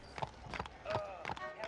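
Horse hooves clip-clop in a steady, moderately quick rhythm in the Western video game Red Dead Redemption, with faint tonal game sounds and a little speech mixed in.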